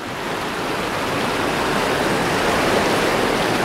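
Water pours steadily through a dam on a lake, heard from close by as a loud, continuous broadband rush with no pauses and no voices.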